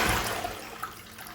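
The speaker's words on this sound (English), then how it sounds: "I'm gonna do the flush one more time" A toilet flushes to rinse a dog-poop-soiled shoe sole, a loud steady rush of water with gurgling and splashing that tapers slightly over its short span.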